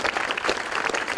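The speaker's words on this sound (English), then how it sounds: "I would ask everybody to join me in a round of applause for her." Steady, dense applause from a gathered audience at the 99th annual Feast of the Blessed Sacrament, loud and continuous with many hands clapping at once and no pauses.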